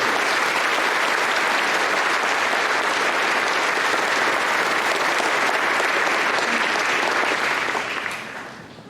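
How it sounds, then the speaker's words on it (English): A large crowd at a Wilton High School Class of 2019 graduation claps for academic excellence award recipients, a loud, dense, sustained wall of applause that holds evenly before tapering off at the very end. "One more round of applause for the awards for academic excellence."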